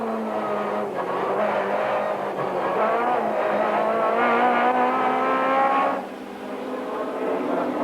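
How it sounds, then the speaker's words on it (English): 1991 British Touring Car Championship race cars, a BMW and a Vauxhall, heard from onboard with engines screaming at high revs, rising and dropping through gear changes, loud and continuous. "BMW is really flying, and we're in car with Hoy, and he's passing Cleland"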